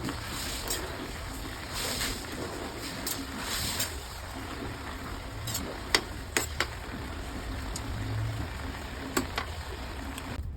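Young Chinese kale and pork are stir-fried in a pan with a continuous soft sizzle, and scattered sharp clinks and scrapes from stirring run through it.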